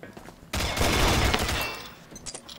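Sustained gunfire in the video game Combat Arms, an M92 FS pistol among the weapons, bursts loudly after a quieter start and keeps up a dense, continuous barrage for about two seconds.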